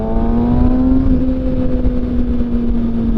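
A Kawasaki ZX6R motorcycle engine on a test ride drones loud and close at a steady pitch, edging slightly upward near the end.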